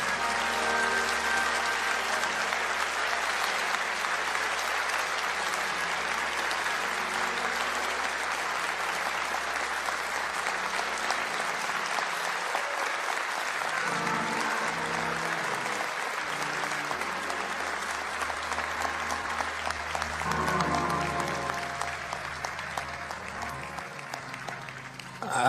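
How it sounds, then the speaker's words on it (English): An audience stands and claps for Kamala Harris at a rally, a dense, sustained wall of applause from a large crowd that runs unbroken for the whole stretch, with faint cheering mixed in. "since y'all stood up and clapped so long"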